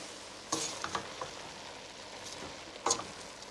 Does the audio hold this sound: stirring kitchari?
yes